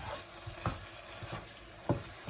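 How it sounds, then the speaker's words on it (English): Nasi goreng stir-fried in a pan with garlic and spring onions: a quiet, steady sizzle under irregular scraping strokes of a utensil against the pan, with a few sharper clacks, heard alone without talk. "we're just going to stir fry this up for about 2 to 3 minutes"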